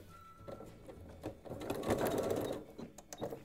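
A sewing machine stitches a fabric protective face mask in a continuous run that swells louder midway, close to the microphone and without talk.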